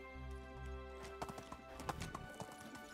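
Horse hooves clip-clop at a riding pace in the medieval survival game Medieval Dynasty, quiet irregular footfalls over a low droning game background with faint musical tones.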